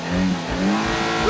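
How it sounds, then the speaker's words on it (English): Two McQueen toy race cars speed up toward a finish line, and a bright revving engine sound rises and swells over a short, loud burst. "2 McQueen cars are speeding up, racing to the finish line."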